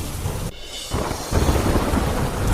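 Heavy rain hisses down continuously while deep thunder rumbles and cracks, dipping briefly before surging back loud and close, with no talking.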